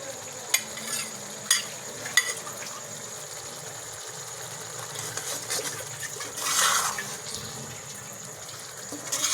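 Onions frying in a cooking pot, a steady soft sizzle with occasional stirring scrapes and clinks, one louder burst of hiss near the end, no voices.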